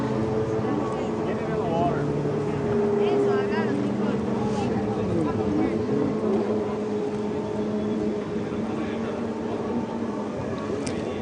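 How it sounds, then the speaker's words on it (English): Sea-Doo HX personal watercraft racing at a Pro Watercross event in Avon Park, Florida, engines whining and droning at varying pitch across the water, with announcer talk over the top. "Casarini on the Sea-Doo HX out there"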